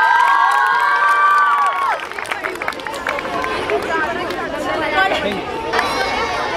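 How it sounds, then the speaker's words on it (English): A crowd at a high school's annual sports day cheers and applauds the winners. Children shout and chatter in a loud, busy hubbub, with a voice speaking amid the noise. "Can we please have a huge round of applause for the winners?"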